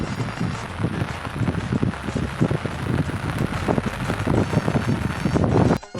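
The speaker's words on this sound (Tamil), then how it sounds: "இப்போ தான் மழை பெய்யுது" Heavy rain pours down over a village in a dense, steady hiss with scattered louder patters and gusty rumbles, continuous throughout and cut off sharply at the very end.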